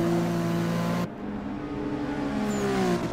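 Race car in Forza Motorsport 6 accelerating down the straightaway at Sebring International Raceway, a loud steady high-revving engine whine with a brief gear-shift dip before the revs climb again, heard alone.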